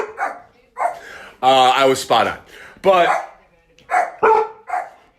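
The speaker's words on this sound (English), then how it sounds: "Cue the dog." A dog barks in several loud, close bursts indoors, sharp single woofs spaced irregularly, with someone talking between and over them.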